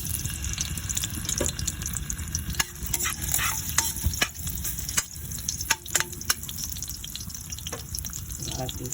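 Ginger, onion, tomato and kamias being sautéed in hot oil, a loud close sizzle with scraping stirs and clatters of a utensil against the pan, continuous throughout.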